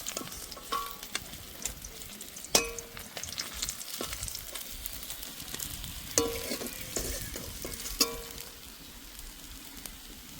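Rohu fish pieces fry in hot oil, giving a constant crackling sizzle with sharp pops and occasional scraping stirs of a spatula in the pan.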